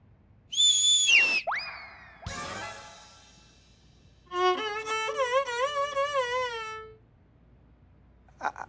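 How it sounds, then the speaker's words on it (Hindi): Several sharp whistle calls follow one another: a high piercing tone that drops and bends, a rising swoop, then a longer wavering whistled phrase with a rich pitch and wobbling inflections before it stops. "आप सीटी मारी थी ना, तो हम ही सीटी मारे हैं आपके शुरू के लिए।"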